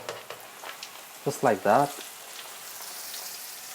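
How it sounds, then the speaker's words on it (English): Breaded chicken portion frying in hot oil, a steady soft sizzle running under the whole stretch, with a person speaking briefly in the middle over the bubbling. "So now really carefully add your portion to the oil"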